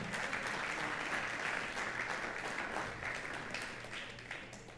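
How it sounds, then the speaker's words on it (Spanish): A church congregation applauds at a Sunday service, dense continuous clapping from many hands that fills the room, holding steady before slowly fading toward the end. "¿Cuántos le dan un aplauso al Señor?"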